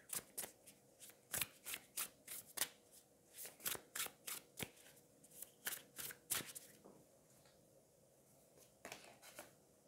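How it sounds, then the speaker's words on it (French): Tarot cards being shuffled and drawn, with faint, close, rhythmic riffles and soft slaps arriving in irregular clusters over a quiet background hum before trailing off. "Je vais aller prendre une carte peut-être pour mettre ici"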